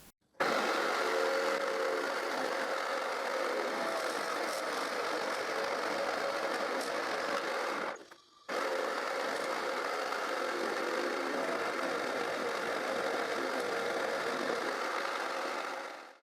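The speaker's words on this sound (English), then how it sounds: "I use the jigsaw table to meter cut." A jigsaw on a jigsaw table cuts 45-degree miter lines in long wood pieces, a loud steady buzzing whine running almost without a break, with one short pause partway through, and no talking.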